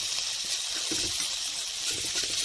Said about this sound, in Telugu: ఆ చిక్కుడుకాయలు వాటర్ ఉంటుంది కదా కొద్దిగా, అది కూడా పోయాలి.